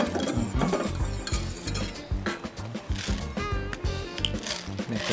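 Cold butter being stirred into a hot sizzling pan for a lemon butter sauce, with rhythmic scraping and clattering of a utensil over continuous sizzle, close and busy.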